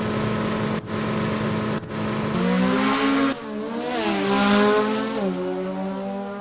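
Drag racing cars, a G Econo Altered and an I Altered Oldsmobile, launch down the strip with loud engine roars that climb in pitch as they accelerate, gear changes breaking the rising whine.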